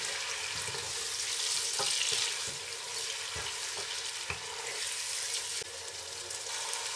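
Ginger garlic paste sizzles and fries in a hot pan while cooking chicken vegetable rice, a steady close crackling hiss broken by occasional stirring scrapes, with no voices.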